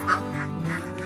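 Laying ducks quack close by in a few quick, nasal calls that overlap one another, loud against quiet surroundings.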